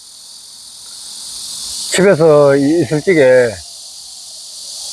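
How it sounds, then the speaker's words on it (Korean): Cicadas drone in a steady, high, unbroken buzz throughout, with someone briefly speaking Korean in the middle. "지금 요 매미 소리 듣기죠?"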